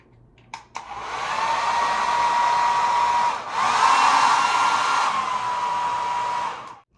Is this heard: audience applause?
no